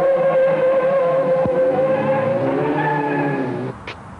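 A Sunbeam Rapier with a 4-cylinder 1592cc engine and twin Stromberg carburettors drives past at speed, a loud, steady engine drone with tire noise that fades toward the end, no talk.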